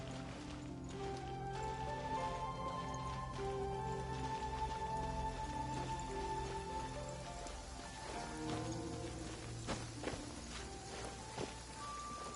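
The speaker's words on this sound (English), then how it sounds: "it's starting to rain" Rain in the video game Genshin Impact falls as a steady patter on surfaces, with in-game footsteps. Sustained game music tones and effects run underneath, and no one talks.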